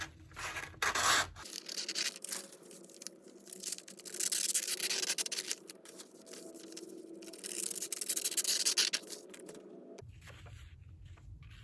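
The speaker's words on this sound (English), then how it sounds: "And I'll show you just how to do it after we cut off these edges." Scissors cutting off the edges of a napkin glued to paper for a gift bag, quiet close snipping and rustling paper in runs with short pauses, no talk.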